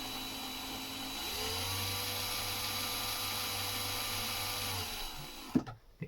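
A hand drill bores into a hinge during a Shetland building project, a steady high whine that rises in pitch after a second, holds for several seconds, then cuts off, followed by a couple of knocks.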